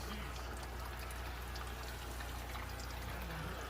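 Water pumped into a 110-gallon Waterbox reef aquarium: a steady, low rushing flow and pouring sound, continuous and quiet throughout.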